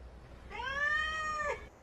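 A cat gives a single drawn-out meow, clear and close, rising then falling before cutting off, with quiet background before and after.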